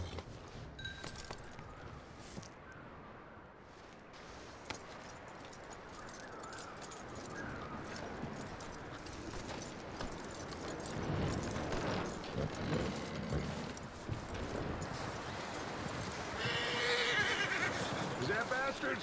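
Horses in the video game Red Dead Redemption 2, hooves clopping and occasional whinnies mixed into busy game sound and voices, fairly quiet and building toward the end.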